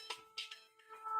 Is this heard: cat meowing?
no